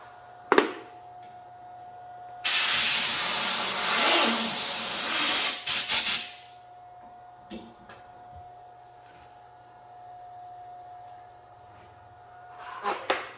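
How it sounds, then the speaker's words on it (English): Compressed air blasting onto freshly welded sheet metal of a Dodge Ram 2500 tailgate repair, a loud steady hiss lasting about four seconds amid a faint hum, followed by a few short sputters and clicks. "use some compressed air to cool it down"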